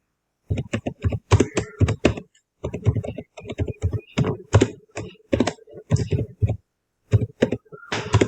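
Typing a Facebook page bio on a computer keyboard: quick, irregular bursts of close key clicks with short pauses between runs of keystrokes.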